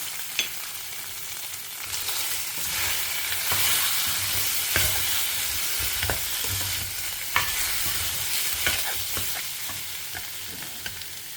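Vegetables with salt and turmeric sizzle steadily in a pan at home while a utensil stirs them, scraping and clinking at irregular intervals, close and with no talk.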